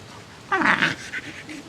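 A dog gives a short whimpering yelp, a brief burst of strained vocalising with a little panting after, close by, with no one speaking.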